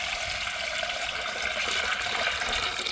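Water pours steadily into a cooking pot of mutton, a continuous rushing splash heard close up with no talk.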